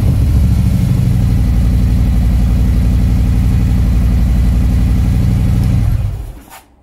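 A 2018 Harley-Davidson Softail motorcycle engine runs loud and steady at close range with a deep, even thump for about six seconds, then cuts off abruptly and the sound dies away.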